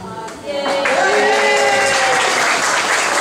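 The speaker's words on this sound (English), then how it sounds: "Now everyone claps" A comedy club audience breaks into loud, sustained clapping that swells after a brief lull and carries on steadily, with a voice speaking over the applause at the start.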